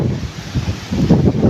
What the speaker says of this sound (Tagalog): Datumbo sa lakas ng hangin.